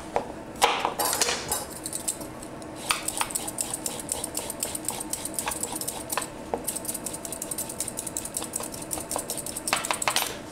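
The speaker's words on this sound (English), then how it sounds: "If I take another carrot, you'll see, with experience, how fast you can peel and cut carrots" Knife rapidly peeling and chopping carrots on a board, a fast run of sharp, close clicks and scrapes in quick irregular rhythm, with no talking.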